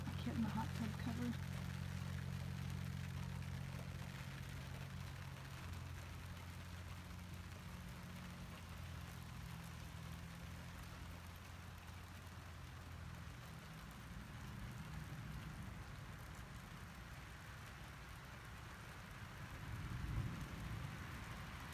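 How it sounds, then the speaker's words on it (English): Rain drums steadily on a hot tub cover, a dense, even patter that runs throughout, with a low droning hum underneath for the first dozen seconds. "You hear the rain, like hitting the hot tub cover."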